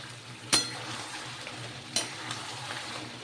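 Spices for a Bengali aloo dum potato curry frying in oil in a pan: a steady close sizzle, with two sharp clinks of a spoon against the pan while stirring.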